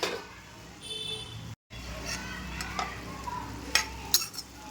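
Vegetable curry with beans is stirred in a pan over a low gas flame, soft scraping strokes and a few sharp utensil clinks over a steady gentle sizzle.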